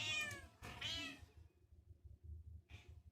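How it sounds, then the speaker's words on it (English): A cat gives two sharp, strained yelping meows in quick succession near the start, then a fainter third cry after a pause, heard close and alone over a quiet low background hum. "The cat does make a yelp noise"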